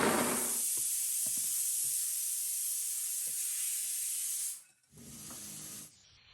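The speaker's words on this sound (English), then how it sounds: "You're gonna add your coconut to your blender, and I'm gonna add 3 cups of water. And we're gonna blend this now." Coconut pieces and about three cups of water whirring in a kitchen blender, a steady loud high roar running for several seconds before it cuts out briefly and restarts, then stops.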